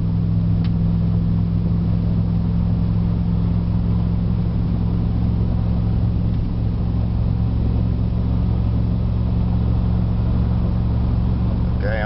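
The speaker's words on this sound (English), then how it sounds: "Okay, it shifted into overdrive right there." A wood gasifier-fueled vehicle engine holds a steady low drone at roughly three-quarter throttle, shifting into overdrive with no clear break in the continuous, close, even engine hum.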